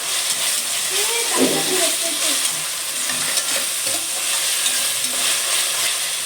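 Ginger and garlic fry loudly in oil, a dense steady sizzle with occasional stirring scrapes, close and continuous.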